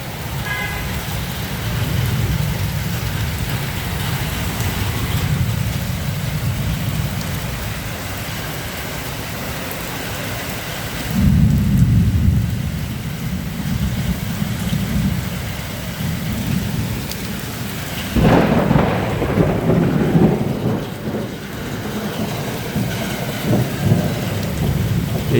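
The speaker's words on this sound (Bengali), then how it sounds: "আমাদের এখানে প্রচুর বৃষ্টি হচ্ছে, প্রচুর বৃষ্টি।" Heavy rain pours onto a waterlogged street during a thunderstorm, a dense unbroken roar punctuated by two loud, rumbling thunderclaps about midway and later, with no talking.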